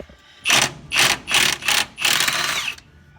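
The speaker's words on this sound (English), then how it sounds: "As you can hear, John's hitting that rascal with the impact" An impact wrench hammering on transmission cross member bolts under a truck, five loud close bursts of rapid whirring rattle, the last and longest before it stops.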